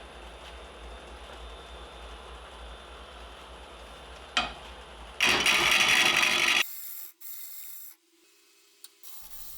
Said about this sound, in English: The goal right now is just to strip off all this excess epoxy and get down to basically bare wood with no ghosting